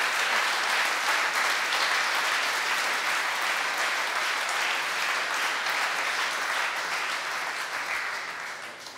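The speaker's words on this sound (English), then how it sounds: "big round of applause for Immersive" Sustained applause from a hackathon audience at a closing ceremony, dense and even clapping throughout that slowly fades toward the end.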